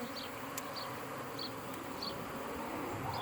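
Honey bees buzzing around a hive box set in an outdoor apiary, a steady close hum with occasional brief louder passes of individual bees, no talking.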